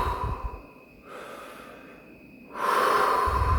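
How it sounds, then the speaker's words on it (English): A person takes a big, deep breath: a long inhale with a pause, a second inhale, then a loud rushing exhale, close and alone with no talking. "Big breath."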